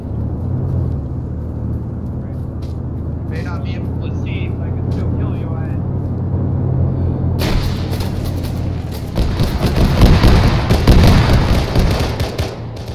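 Loud blasts and a roaring wash of noise during a military field training exercise with grenades, a muffled low rumble first, then a sudden broad burst that persists, with soldiers calling out in the background.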